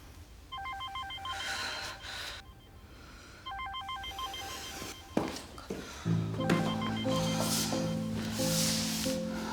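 A telephone rings with an incoming call in a Turkish drama scene. The electronic ring comes in repeated bursts, and near the end a louder, lower tone pattern joins it, with room noise throughout.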